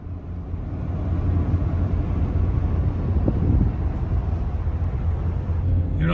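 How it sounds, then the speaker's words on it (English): Steady wind blowing hard across open country around a farmhouse, a continuous low rumbling roar without pause, mixed with a faint drone that might be a passing vehicle. "Gets real windy down here."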